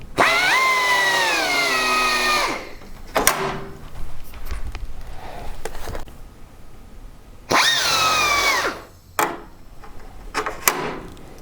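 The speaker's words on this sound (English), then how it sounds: "So let me get to drilling." Power drill boring holes through a template piece made to match an aircraft skin panel for a Titan T-51D Mustang build, with two long whining bursts of drilling separated by short clunks and quiet handling noise.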